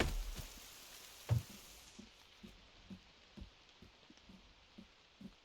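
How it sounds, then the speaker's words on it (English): Quiet, steady video-game rain falls with soft scattered drips and light taps on a surface, and a louder thump near the start. "Oh, and it's raining."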